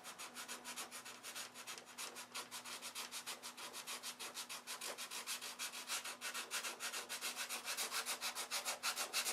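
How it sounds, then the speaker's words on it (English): Steady rhythmic back-and-forth sanding on the bottom of a boat, close and continuous with fast regular strokes and a faint constant hum beneath, no voices. "I'm still sanding"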